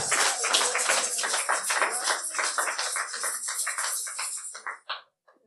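Church congregation clapping during a Sunday service, a dense burst of hand claps that stays steady, then thins and cuts off abruptly near the end, leaving brief silence.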